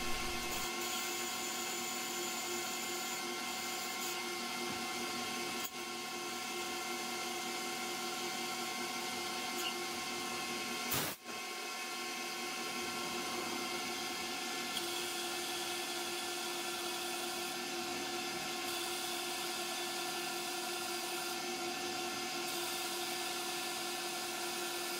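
A small CNC lathe bores, turns and parts off an acetal roller, giving a steady close-up machine whine with a constant hum and layered tones running the whole time, plus one brief sharp burst partway through.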